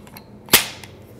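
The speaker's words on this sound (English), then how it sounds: "During this exercise, I'll be dry firing a double action hammer fired gun." A single sharp metallic click from an empty double-action hammer-fired handgun being dry fired indoors, one close, crisp snap with a brief decay.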